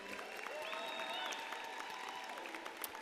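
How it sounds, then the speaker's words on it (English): Faint, distant applause from a graduation ceremony crowd, sustained and even, with a thin tonal whine running through it. "A big round of applause again."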